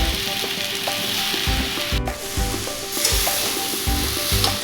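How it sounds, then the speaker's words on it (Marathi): Grated raw mango fried in ghee with cloves and cinnamon makes a loud, close, continuous sizzle with rhythmic stirring scrapes of a spoon against the pan. "आता हे आपल्याला तुपावरती व्यवस्थित एक चार एक मिनिट आपण छान असं व्यवस्थित परतून घेऊयात"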